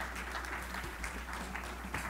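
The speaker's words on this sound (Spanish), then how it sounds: "le quiero pedir un fuerte aplauso a Alex Sánchez" Audience applause at a Digital Insurance conference in Panama, a dense, steady clapping of a seated crowd sustained without a break, heard at moderate distance.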